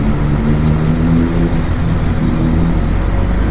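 Cars driving close behind on a Suffolk road rev their engines, a steady loud rumbling drone heard from inside a vehicle with no talk over it.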